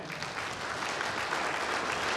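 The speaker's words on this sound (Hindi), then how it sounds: "सभी संस्थाओं के लिए मैं चाहूँगा कि जोरदार ताली हो जाए।" A ceremony audience at an Anjuman Islamia Committee felicitation event in Balaghat claps steadily and densely throughout, a continuous wash of applause heard alone.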